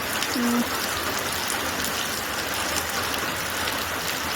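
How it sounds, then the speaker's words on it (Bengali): Steady, heavy rain pours down in a constant dense hiss, with no voices. "বৃষ্টি পড়েই যাচ্ছে, অঝোরে বৃষ্টি পড়ে যাচ্ছে"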